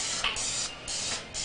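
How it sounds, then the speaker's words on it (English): Pam cooking spray spritzed onto a pan, several short hissing bursts close by with brief pauses between them, no voices. "we got to spray it down with a little bit of Pam."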